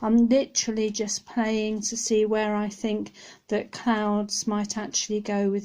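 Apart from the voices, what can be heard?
No everyday noise stands out behind the speech.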